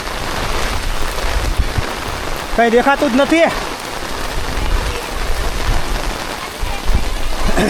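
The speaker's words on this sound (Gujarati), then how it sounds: "કેવો વરસાદ પડે જોવો તમે." Heavy rain pours loudly at Pavagadh Mahakali temple in a dense, close roar, with someone speaking briefly over it.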